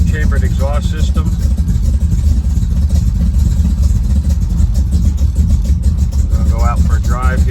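A 1968-69 first-generation Camaro engine with chambered exhaust rumbles steadily with a deep, throaty exhaust note, low and continuous throughout, with brief voices talking over it near the start and end.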